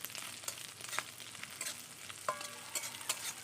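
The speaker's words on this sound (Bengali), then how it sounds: "চিংড়ি মাছগুলোকে লাল লাল করে ভেজে নেব।" Prawns fry in hot oil, with a soft, steady sizzle and occasional stirring clinks and scrapes, quiet and close with no voices.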